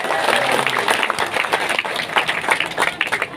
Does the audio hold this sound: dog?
no